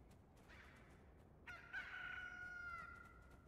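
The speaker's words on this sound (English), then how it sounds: "I hear chickens." A rooster crows once from a Resident Evil 5 mod, a faint strained call in the game world rising over quiet background noise, with no talking.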